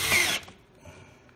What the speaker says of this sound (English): Just finishing off the last three screws